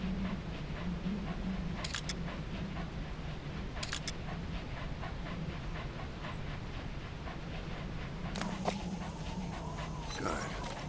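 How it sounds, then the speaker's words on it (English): In-game dog panting from Metal Gear Solid V: The Phantom Pain, a steady soft breathing rhythm under radio voices and game sound effects. "Good dog."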